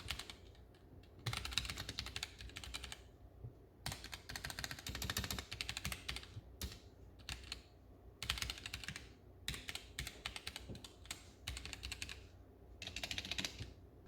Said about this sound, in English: that's what the Gatoron black switches sound like on this keyboard